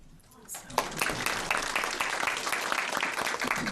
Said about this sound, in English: Let's give another round of applause for that awesome invocation